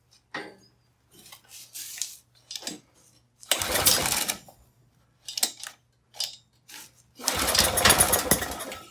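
A three-wheeled golf cart engine is cranked repeatedly. Short sputtering bursts alternate with silence, and two longer, louder rough runs suggest the engine catches briefly before dying.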